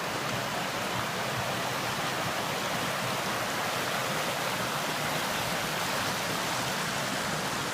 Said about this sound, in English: All right, here's Kimsey Creek.